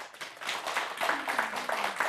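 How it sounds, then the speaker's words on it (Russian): Studio audience applause on an evening talk show, steady overlapping handclaps from a modest crowd, fairly close, with no talk over them. "Аплодисменты."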